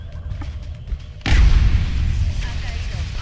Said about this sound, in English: let's shoot you in the face with a shotgun again